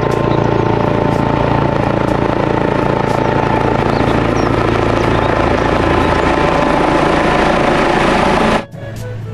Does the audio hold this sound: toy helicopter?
yes